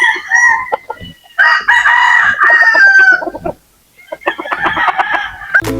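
Native chickens tied up outdoors, roosters crowing loudly in several long calls close by, mixed with clucking between crows and no speech.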